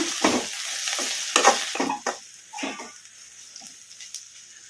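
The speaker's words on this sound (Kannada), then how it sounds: "ಅವಾಗವಾಗ ತಟ್ಟೆ ತೆಗೆದು ನೋಡಿ ಕಲಸ್ಕೋಬೇಕು ಕಲಸ್ಕೊಂಬಿಡೋಣ" Green chillies frying in a covered pan, stirred with a few scraping strokes against the metal amid a steady, close sizzle, no voices.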